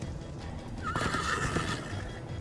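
One horse in the Minecraft: Story Mode video game lets out a sharp, close whinny partway through, over a rumble of galloping hooves.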